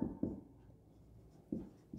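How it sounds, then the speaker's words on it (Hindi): Writing strokes on a board or paper during an organic chemistry lecture: a few short, scratchy bursts spaced through a quiet stretch with no talking. "इसलिए हम यहाँ लिख सकते हैं"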